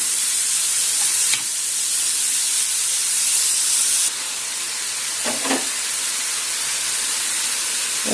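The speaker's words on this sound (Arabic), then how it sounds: "هنزل بالبصل اللي انا مقطعاه، وهنقلب البصل مع الكبده" Liver and onions sizzle in a frying pan with a steady broad hiss, close and fairly loud, broken by brief clinks or stirring knocks; no voices.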